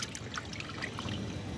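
Water trickles and splashes steadily while a fish head is rinsed during fish cleaning, a close, continuous wet pouring sound with no talk.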